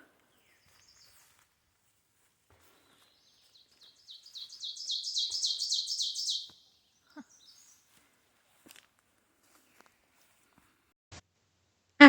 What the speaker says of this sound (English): There's a lot of birds out.